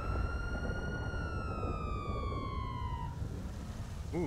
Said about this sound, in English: The siren sounds funny.